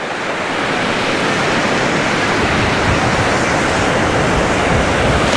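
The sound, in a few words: sea waves on a crowded beach in Anapa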